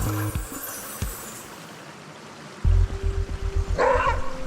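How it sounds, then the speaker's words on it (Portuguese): A maned wolf gives a few deep, gruff barks at close range in the forest of a Brazilian national park, with a stream murmuring in the background. "Ouvimos o seu latido de perto, mas não conseguimos vê-lo."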